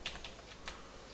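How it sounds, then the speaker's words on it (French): Faint computer keyboard typing, a few soft key taps spread over about a second, recorded quietly at a desk with a low background hiss. "ça va capturer les touches de votre clavier quand vous allez taper dessus"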